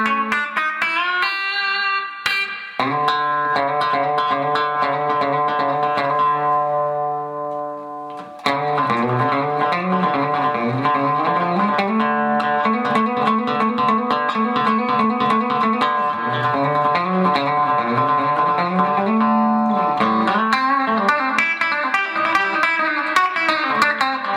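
A clean Fender Deluxe Telecaster electric guitar plays sustained chords and melodic runs with a bright, twangy, hum-free tone and light effects, continuous and close.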